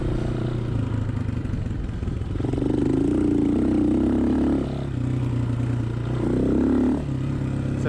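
Honda XLR125R single-cylinder motorcycle engine pulling in third gear, a steady mid-pitched drone that rises in two revving surges, heard alone and close.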